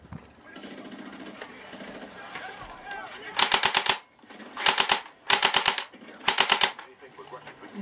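An airsoft AK47 rifle firing on full auto, four sharp rapid bursts close by, each about half a second long with short pauses between, after quieter handling noise and talk.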